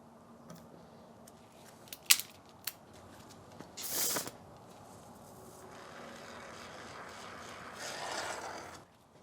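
A solidified spray foam gun hose being trimmed back, with a few sharp snips and clicks followed by a brief louder cutting burst, then quieter rustling handling noise, all close and fairly faint.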